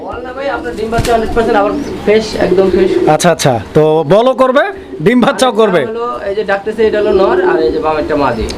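Fancy pigeons coo at a pigeon seller's stall, soft cooing running beneath nearly continuous close conversation between two men.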